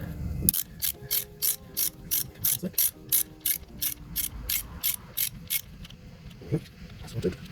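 A ratchet wrench loosens a 13mm nut on a Porsche 996 engine, giving a rapid run of crisp, evenly spaced clicks up close, then a few slower clicks, with faint talk in the background.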